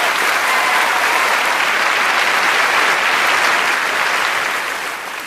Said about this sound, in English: A round of applause for our 4 volunteers